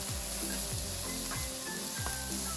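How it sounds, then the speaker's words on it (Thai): Bean sprouts stir-fry in a pan pushed beside a mussel pancake batter, a soft, steady sizzle with rhythmic swishing sweeps of a spatula about twice a second. "ดันแผ่นแป้งไปไว้ฝั่งหนึ่งของกระทะแล้วใส่ถั่วงอกลงไปผัด"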